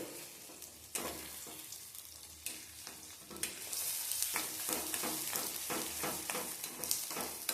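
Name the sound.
sautéing shallots, onions and garlic for fenugreek curry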